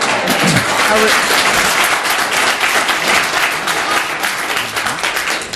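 Applause breaks out at a city council meeting, a loud, dense patter of clapping sustained throughout, with people talking over it.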